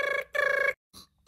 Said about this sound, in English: Oh, I'm getting so many notifications.